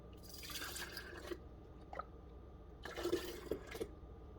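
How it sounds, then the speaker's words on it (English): Homemade yogurt mixture poured into jars in a kitchen, two bursts of liquid splashing and trickling separated by a short pause and a brief drip, close and moderately quiet, with no talk. "So let's get them poured into the jars."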